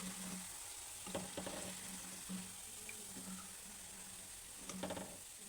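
Palak pakodas fry in hot oil with a continuous bubbling sizzle close at hand. Stirring clinks and ratchety scrapes of a slotted spoon come in short bursts now and then.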